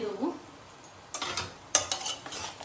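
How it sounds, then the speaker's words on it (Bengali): A spoon working through home-style Hyderabadi mutton biryani in a pot over a low flame, with soft scrapes and a few louder clinks in the second half. The sounds are quiet and close, with no talking. "হালকা করে একটু দেখো মিশিয়ে দিচ্ছি"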